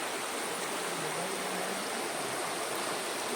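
A forest stream flows beside an outdoor picnic spot, a steady, unbroken rush of water that fills the whole stretch evenly.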